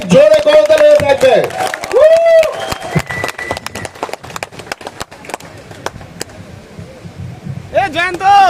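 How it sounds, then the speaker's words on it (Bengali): A large audience claps loudly at an August 15 gathering, dense applause running under amplified singing and speech from the stage, thinning toward the end before voices rise again. "জোরে করতালি থাকবে"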